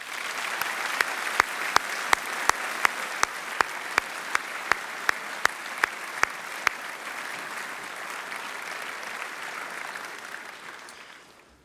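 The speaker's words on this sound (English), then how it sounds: "Can we please give them a round of applause?" Audience at a Year 12 graduation assembly at St Lawrence's College, sustained applause from a large crowd with a series of sharp, evenly spaced claps cutting through the first half, slowly fading toward the end.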